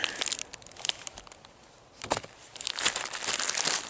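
A bulky package is cut and torn open by hand at an abandoned campground, with continuous close crinkling and rustling of plastic and paper and sharp tearing bursts, loud and steady with no voices.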